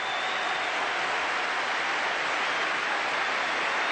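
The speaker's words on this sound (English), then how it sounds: "Tremendous applause, a standing ovation for the great player." A cricket crowd breaks into sustained applause for a standing ovation, a dense, even roar of clapping heard from a distance with no break.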